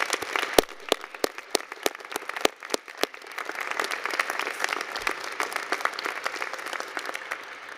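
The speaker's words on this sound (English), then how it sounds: "Let's give the graduating class of 2021 another well-earned round of applause" Applause for the graduating class of 2021 at a university commencement: sharp, separate claps ring out first, then build into a dense, sustained round of clapping from a crowd.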